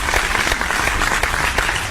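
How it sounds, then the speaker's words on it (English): Crowd applause added as a sound effect in a country radio studio, a short, dense burst of many hands clapping at full loudness, with no voices over it. "I think I'll have to add a little applause there."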